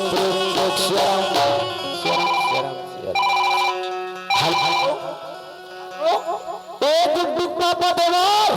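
A melodic phone ringtone plays loudly and repeatedly, its tune broken by short pauses, with voices now and then.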